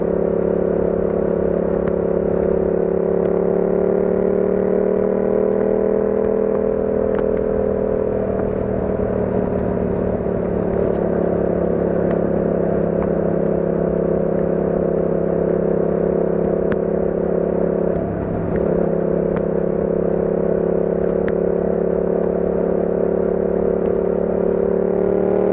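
A motorcycle engine drones steadily while riding over a broken, rough road, a loud continuous hum with a slight pitch dip midway and faint rattles and clatter throughout, no voices.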